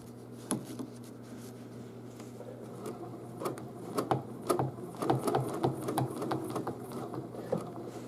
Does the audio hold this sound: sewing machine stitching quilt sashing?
yes